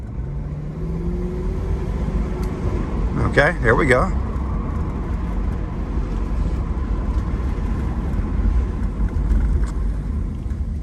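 A 1992 Lexus SC400 with a V8 drives along, its engine a steady low rumble throughout, while someone speaks briefly near the start.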